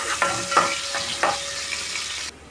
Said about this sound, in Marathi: तेल गरम झालेलं आहे आता आपण हा कांदा बारीक करून लसून घेतले ती टाकून कढीपत्ता पण टाकायचा तेलामध्ये भाजून घेऊया